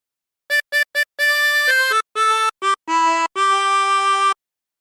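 A chromatic harmonica plays a phrase up close. Three short staccato notes are followed by longer held and stepping notes with brief gaps, bright and reedy, and nothing else is heard.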